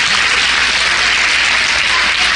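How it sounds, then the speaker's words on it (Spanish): A church congregation at a Holy Week service bursts into loud, dense applause that stays steady and continuous through the short burst. "Denle un aplauso fuerte al Señor."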